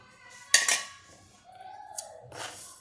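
A metal spoon clinks twice sharply against a bowl while adding sugar and salt to moong dal batter, followed by softer scraping and a final tap, close and quiet.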